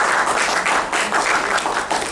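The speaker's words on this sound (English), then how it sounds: "can we have a round of applause for him?" A crowd gives a short round of applause for a speaker at the end of a session, a brisk wash of many hands clapping close and fairly loud, with no speech over it.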